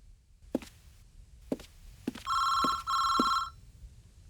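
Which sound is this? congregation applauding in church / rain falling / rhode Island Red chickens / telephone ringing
telephone ringing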